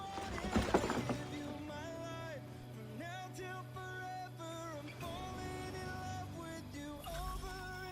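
A horse in the Assassin's Creed 3 video game whinnies loudly near the start, with a clip-clop of hooves and a steady game music score running underneath throughout.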